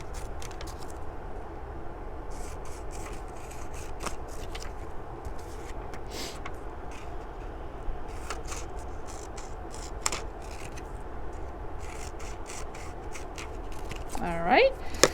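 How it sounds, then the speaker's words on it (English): Scissors snip through paper cards along a dotted line, a long run of quick, close, irregular cuts and rustles with steady background noise throughout. "I'm going to cut these again like I did before on the dotted line"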